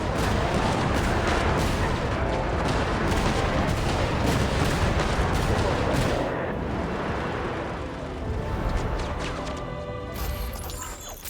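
Rapid, continuous gunfire and explosive blasts in a Genshin Impact battle sequence, a dense loud barrage that thins out toward the end.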